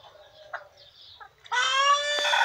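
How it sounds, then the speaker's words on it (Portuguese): A chicken squawks outdoors: faint clucks first, then a loud, harsh, sustained squawk that stays close and clear to the end. "Finalmente, a galinha tá gritando ali."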